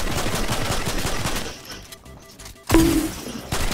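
Gunfire from a Fortnite match: a sustained burst of rapid shots that fades, a short lull, then one loud sharp blast and more shooting.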